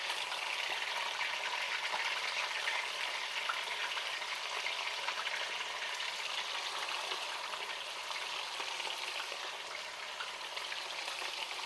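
Chicken wings sear in a hot cast iron pan with a steady, dense sizzle and crackle that holds evenly throughout, close and alone with no talk.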